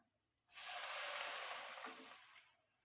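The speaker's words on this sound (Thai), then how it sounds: "ใส่น้ำนะคะ" A hissing rush of water poured into a cooking pot for papaya curry with canned fish, about two seconds, starting abruptly and tapering off, faint and close by.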